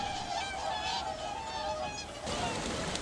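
Whooper swans honk repeatedly in a loud, continuous goose-like chorus, calls overlapping on a steady background as the flock heads toward the ocean over mudflats.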